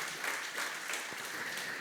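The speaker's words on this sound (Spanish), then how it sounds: "Por favor, apláudele fuerte." A congregation at a Spanish-language church service claps loudly and continuously in a dense burst of applause with no one speaking over it.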